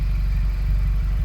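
A close, steady low idle comes from a VW Polo 1.4 FSI running a custom PowerFlow stainless steel exhaust with a new sports cat, a constant rhythmic exhaust throb with a faint whir above it and no talking.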